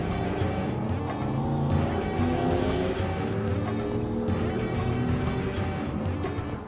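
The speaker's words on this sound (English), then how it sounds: "Like the the loud car outside" A loud car outside rumbles with a steady low engine drone, heard from indoors for several seconds.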